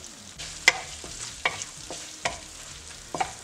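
Ginger garlic paste frying in oil with bay leaves for a kadai chicken, a soft continuous sizzle broken by a few sharp spoon clinks and scrapes against the pan at irregular intervals, close and fairly quiet.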